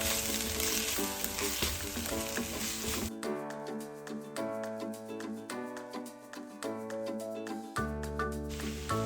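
Eggs scrambling with drumstick leaves in a hot pan, sizzling steadily with repeated scrapes and stirs of a spatula throughout, close and fairly loud under a layer of background music.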